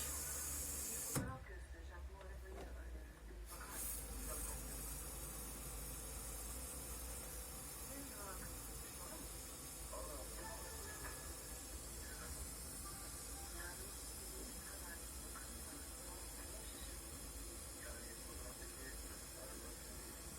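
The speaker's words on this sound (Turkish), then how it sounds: "yavaş yavaş çevirdiğimizde su sesini duymaya başlayabiliriz" Water hisses steadily into an Ariston combi boiler through its filling tap, a faint, continuous rushing that holds unchanged from start to finish.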